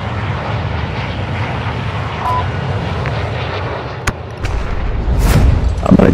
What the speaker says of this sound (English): While I'm flying around on the chopper.